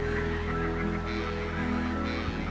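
A large flock of geese or similar lake birds honking together at a roost beside a monsoon-fed island lake, a dense, continuous chorus of overlapping calls filling the whole stretch with no voices.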